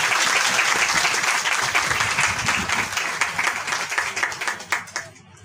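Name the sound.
loud applause from the church congregation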